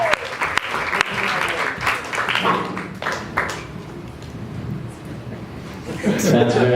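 A small audience breaks into clapping at a talk on transhumanism, scattered hand claps at first that settle into a looser patter, with voices and some laughter coming through underneath toward the end.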